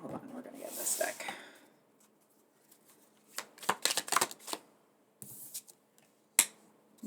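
A tarot card deck is riffled and shuffled close by in several brief bursts with quiet pauses between, and a voice speaks over part of it.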